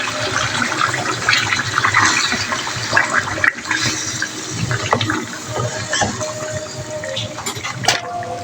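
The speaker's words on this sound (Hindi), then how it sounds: "वो मैंने पीस के अब ये मिक्सचर आपने इसमें शामिल कर देना है।" A wet blended paste of tomato, green chili and onion tips into a cooking pot for chicken karahi, giving a steady, fairly loud sloshing, gushing pour that runs for several seconds with a few brief clunks near the end.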